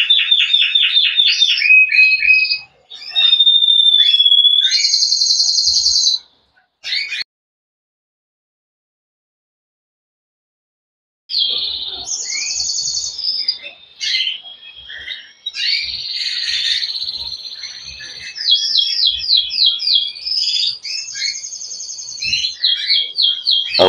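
Contest songbirds sing loud, close, repetitive chirping and trilling phrases, with a silent gap in the middle before the song resumes strongly.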